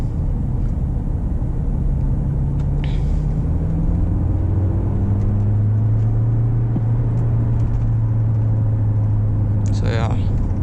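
BMW 520d diesel car driving in sports mode on city roads in Mumbai, giving a steady engine rumble and road noise with slowly rising engine tones, while a person talks over it.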